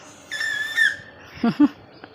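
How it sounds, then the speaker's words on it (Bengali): A whistle blown through a folded leaf gives a single steady, fairly loud tone lasting about half a second. A few brief, deeper bird-like chirps follow it. "আমরা আগে এরকম পাতা দিয়ে বাঁশি বাজাতাম"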